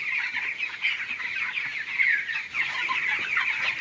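Chickens cluck and call continuously on a poultry farm of about 3,000 birds in Ganeshwar village, Cuttack district, a dense, busy chorus of many hens close by with no talk.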